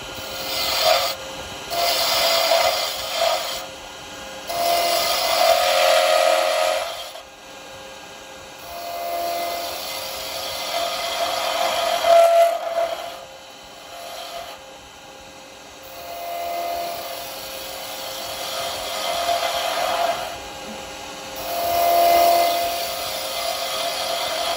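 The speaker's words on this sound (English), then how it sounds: "Just coming in with a round chisel." A round chisel shapes a wooden Christmas tree on a spinning lathe, producing a loud, continuous scraping rasp that swells and fades as the tool is pushed in and lifted off over about 25 seconds.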